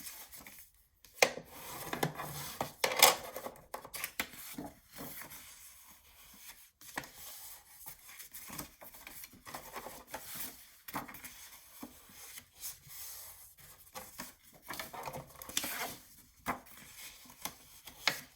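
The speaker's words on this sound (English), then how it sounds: "So just go ahead and fold all of your scores" Scored paper for a junk journal flip book is folded and creased: quiet rustling, rubbing and soft sharp crinkles come in uneven bursts, close up, with no talking.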